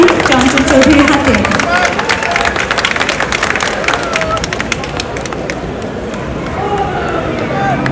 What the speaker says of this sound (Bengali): জোরে একটা হাততালি প্লিজ